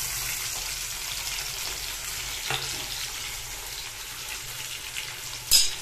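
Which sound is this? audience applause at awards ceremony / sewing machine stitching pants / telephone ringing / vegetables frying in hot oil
vegetables frying in hot oil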